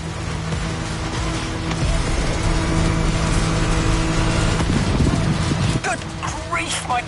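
A car in the racing game The Crew Motorfest drives flat out, its steady engine drone holding loud and continuous while a voice talks over it, with a few sharper mechanical bursts near the end.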